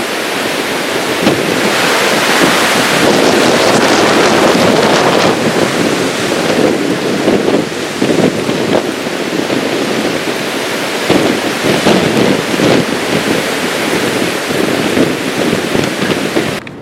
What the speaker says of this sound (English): Got really windy.